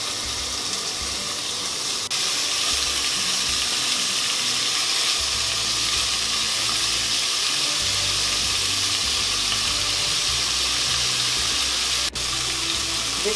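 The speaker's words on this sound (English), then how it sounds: "we're just going to add our pieces. And we just want to quickly brown this" Pork belly pieces sizzle and fry steadily in a hot pan while browning, a dense, even crackle that runs loud and unbroken for the whole stretch with no talking.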